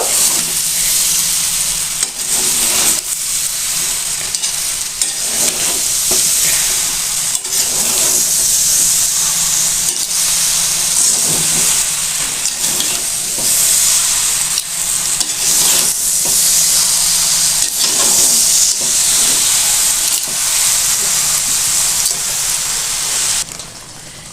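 Melted sugar for a sweet-sour olive pickle hisses and sizzles in a pan under steady stirring, a loud, continuous frying texture that carries on unbroken for over twenty seconds.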